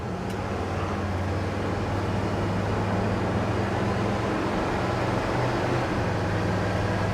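A 1957 Chevrolet Cameo pickup accelerates on the road, its engine a steady, loud low drone with constant road and wind roar throughout, no speech.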